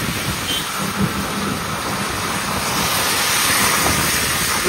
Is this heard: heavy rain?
yes